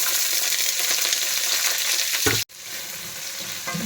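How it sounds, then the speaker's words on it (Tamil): Sliced onions sizzle in hot oil in a pan with cinnamon, cloves and spices for a beef curry, a loud steady frying hiss that drops sharply near the end as the food is stirred. "நான் ஒரு 3 வெங்காயம் போடுறேன்."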